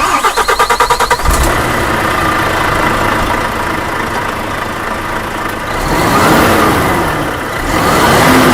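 A Volvo FH truck's diesel engine cranks with rapid starter pulses, catches and settles into a loud, steady idle, then swells briefly as it is revved, heard close with no talk.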